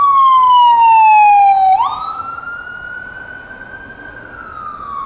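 A loud ambulance siren wails nearby on a city street by Trump Soho, sweeping downward and then switching to a steady rising tone, with faint street traffic underneath.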